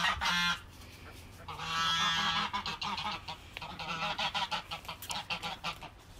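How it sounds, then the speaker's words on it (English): Sebastopol geese honk loudly and close by in a garden with fruit trees, a series of harsh repeated calls in bursts with several birds overlapping. "Sebastopol geese up there."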